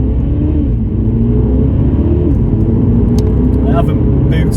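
A Mini Cooper JCW hot hatch, still warming up in manual mode, revs close and loud, its engine note rising and falling through gear changes over a steady rumble.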